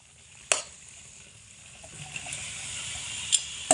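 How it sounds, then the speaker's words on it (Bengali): Boiled cabbage sautéed with spice paste in a pan for cabbage paturi, giving a faint, steady sizzle with a couple of sharp clinks of utensil against the pan. "এবার বাঁধাকপি দিয়ে মশলার সঙ্গে ভালো করে একসঙ্গে কষিয়ে নিতে হবে"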